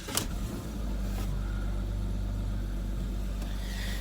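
A car engine running an ethanol map cranks and fires in cold weather at about 2.5 degrees, catching quickly and then settling into a steady, loud close idle with no talking.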